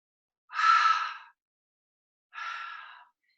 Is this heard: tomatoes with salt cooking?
no